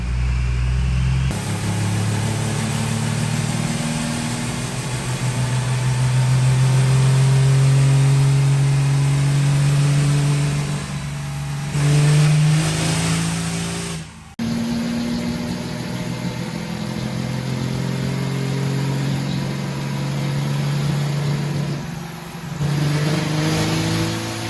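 A 1400 horsepower car engine with an HE351 turbo running on nitrous, a loud close sustained drone that rises and falls through long revs with one sharp break partway through, no voices.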